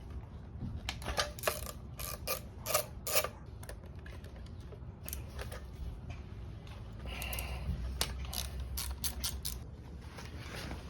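Bolts are unscrewed from a barn find motorcycle, producing a series of sharp, irregular metallic clicks and ratcheting ticks, close by, scattered across the whole stretch over low background noise.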